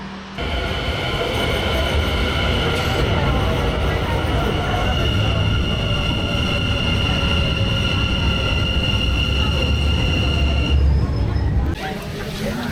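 Steady loud rumble of a train in motion heading into central Amsterdam, wheels and carriage noise droning continuously with a high whine on top, heard from inside.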